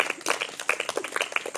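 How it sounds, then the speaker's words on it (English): Audience applause at a Chandrayaan-3 moon landing celebration, a crowd clapping steadily at moderate distance with brisk, uneven claps. "I request you to give a big round of applause for the other countries too"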